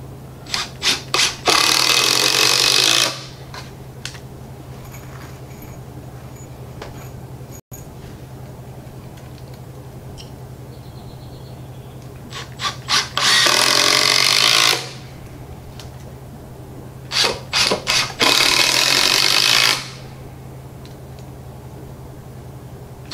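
Coarse 3-inch drywall screws driven into wood for a budget sawhorse, three separate bursts of driving, each a few seconds long, with quiet pauses between, close and loud.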